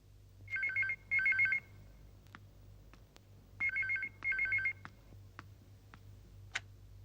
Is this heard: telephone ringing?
yes